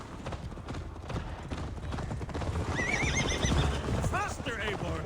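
A horse in Assassin's Creed Valhalla trots with steady clip-clopping hooves throughout, and a few loud whinnies ring out near the end, all under background game noise and voices.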